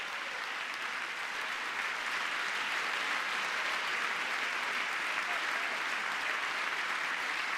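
Sustained, dense applause and cheering fill a packed Congress chamber during a presidential address to a joint session, loud and even throughout.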